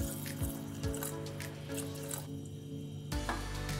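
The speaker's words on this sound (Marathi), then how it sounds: "यामध्ये भरपूर पाणी ओतायचं" Water is poured into a pressure cooker over soaked chickpeas for a soup-style dish, a faint close splashing trickle with small clinks, briefly easing before a final burst of pouring.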